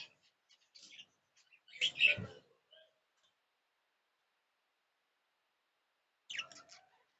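A pet budgerigar gives a few short, faint chirps and clicks in two brief bursts separated by a long quiet gap, close by and otherwise still.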